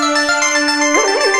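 A keyboard sequencer runs a bright, buzzy arpeggio pitched a couple of octaves up, a steady repeating note line that climbs and wobbles near the end, loud and close with no talking.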